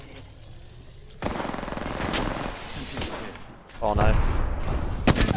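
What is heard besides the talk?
gunfire in the video game Apex Legends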